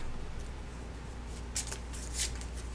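Card fragments from the Aeons End: Legacy of Gravehold board game are shuffled by hand, giving quiet, close papery riffles with a few brisker bursts, alone against a low hum.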